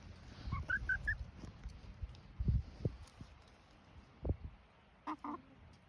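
Pet geese or similar fowl honk and squawk in short scattered bursts outdoors on a mild winter day, the calls fairly close and interspersed with rustling and soft pecking sounds.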